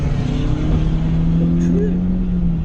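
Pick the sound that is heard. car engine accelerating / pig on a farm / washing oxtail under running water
car engine accelerating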